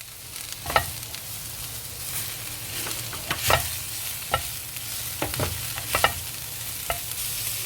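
Lemon garlic chicken with an Italian spice blend being stirred in a pan, a steady close sizzle and fry hiss with repeated sharp scraping and clinking strokes of the utensil at an uneven rhythm.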